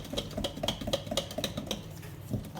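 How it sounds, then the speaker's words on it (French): Fougasse dough being stirred in a bowl, a quick run of light clinks and taps from a utensil against the bowl in an uneven rhythm, close and fairly faint, with no talk. "Voilà, on remue, on remue, on remue."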